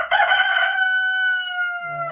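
Rooster crowing on a farm among chickens, a single loud drawn-out close crow followed by a brief cluck at the end.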